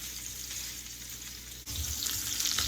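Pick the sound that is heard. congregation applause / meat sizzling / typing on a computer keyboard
meat sizzling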